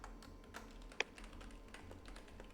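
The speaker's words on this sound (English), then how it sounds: "I'm typing some notes." Notes being typed on a computer keyboard during a meeting: faint, scattered key taps at an uneven pace, with one sharper clack standing out, heard alone against a low background hum.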